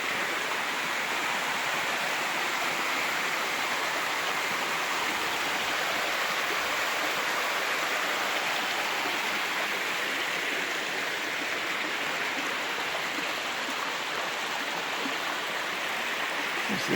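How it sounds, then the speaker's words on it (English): Steady rushing water, a broad continuous hiss of a flowing creek on a trail in Paris Mountain State Park, close and unbroken, with no voices. "you still hear that water rushing"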